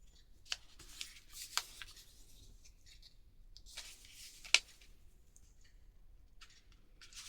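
Paper being squash-folded into a paper bag pocket, with soft crinkles, rustles and a few sharp creasing snaps, close and quiet with pauses between.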